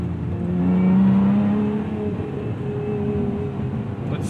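A Lotus Emira sports car engine pulls steadily through a gear under acceleration, a rising, droning mechanical tone heard from inside the cabin without talk, before a shift into third.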